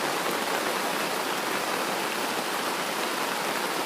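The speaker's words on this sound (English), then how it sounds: "Torrential downpour since last night." Torrential rain pounds steadily on a canvas tent in Maine, a dense, constant hiss of drops with no letup, loud and close.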